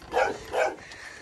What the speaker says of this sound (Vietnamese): Con chó này.